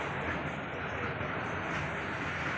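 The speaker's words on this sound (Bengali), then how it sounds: "তোমার কয়লা ট্রেন হোক, কয়লা চলছে।" A coal freight train runs past at night, a faint, steady rumble of moving rail cars heard from a distance, continuous and without distinct clatter.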